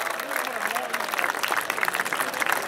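Dense, steady applause from an audience at an orchestra concert in Bertipaglia di Maserà, filling the whole stretch with even clapping and crowd noise, likely with cheering voices mixed in.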